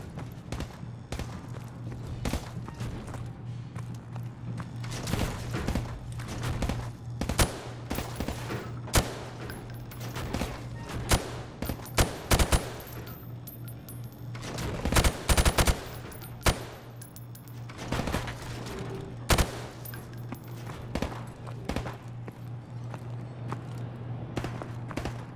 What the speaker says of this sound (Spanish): Ahora dispara a los blancos mientras apuntas desde la cadera.